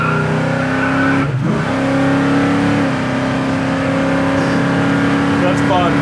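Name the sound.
1970 Buick GS engine revving while driving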